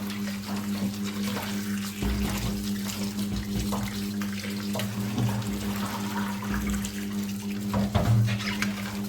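Running water splashes and swirls steadily, with a few louder sloshes as potato slices for wafers are rinsed in a basin.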